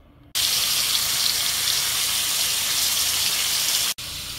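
Small chanda fish, coated with salt and flour, go into hot oil in a pan and set off a sudden loud, steady hissing sizzle that carries on close and unbroken.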